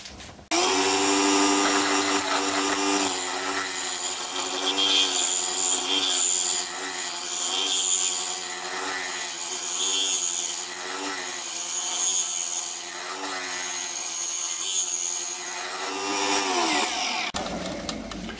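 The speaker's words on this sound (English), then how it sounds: "I'll just carry on with the scraping now, I think" Steady scraping of an ash wood platter turning on a lathe, a continuous near, loud rasping drone with a ringing tonal hum that holds for about seventeen seconds before stopping abruptly.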